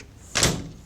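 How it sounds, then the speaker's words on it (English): A sticking door is forced open or shut in one short, scraping thud that rises suddenly and fades over half a second, heard alone at close range. "Door sticks again."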